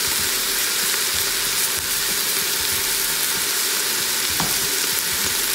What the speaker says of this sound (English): You can hear the sizzling and the browning of the chicken